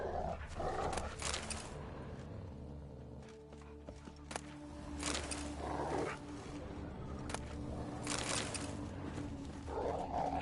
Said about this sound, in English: Just beware of the dogs.